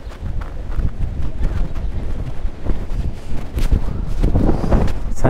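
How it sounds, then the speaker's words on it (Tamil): Strong wind buffets the microphone outside a cathedral in Cadiz, Spain, with light rain falling. The roar is loud and continuous throughout, with gusty surges and no voices. "கொஞ்சம் கொஞ்சம் மழை பெய்யுது, சரியான காற்று அடிக்குது."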